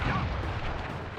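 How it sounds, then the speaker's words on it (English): A dense, loud burst of booming explosions fills the moment as a firework attack goes off in the Sly Cooper video game, a continuous crackling blast with no pause. "I will send you to your doom with the beauty of my new firework technique"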